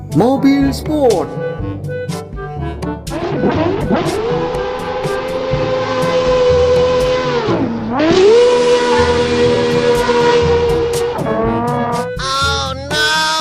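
A toy sports car plays a loud electronic engine sound, a sustained rising rev that holds, dips and climbs again, over background music and voices.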